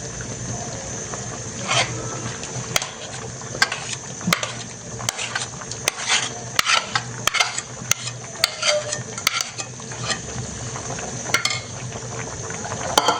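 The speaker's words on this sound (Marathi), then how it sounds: "आता पुन्हा एकदा आपण 2-3 उकळी काढून भाजी शिजवून घ्यायची आहे" Chicken rassa bhaji, a Maharashtra-style chicken curry with fried masala poured in, simmering in a pot with a steady bubbling hiss and scattered sharp pops and clinks throughout, no talk.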